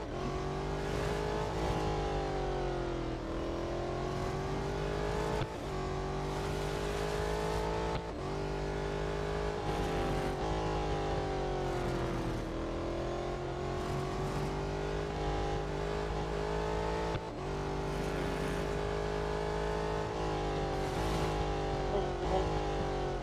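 A race car engine in the Real Racing 3 video game drones continuously at fairly low volume. It rises and falls in repeated cycles of acceleration and gear shifts, with only a faint hint of speech.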